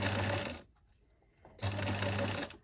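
A sewing machine stitches paper ruffles onto a journal page in two steady, close bursts of rapid mechanical chatter separated by a short pause.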